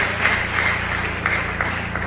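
A church congregation applauds during a 20th anniversary worship service in Bangar, La Union, with scattered clapping bursts over a steady low hum in a large room.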